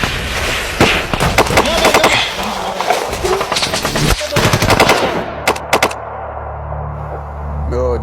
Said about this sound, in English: Right then, the Adam base came upon simultaneous fire from an unseen enemy.